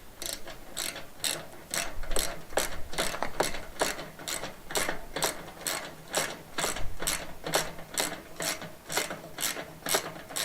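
A hand ratchet tightens a fitting on a blocked wood-stove flue in an off-grid house, giving a fast, regular run of sharp clicking strokes. It is close and loud, with brief pauses between bursts of cranking and no talking.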